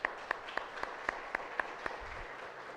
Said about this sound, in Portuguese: Vamos dar um louvor de palmas ao Senhor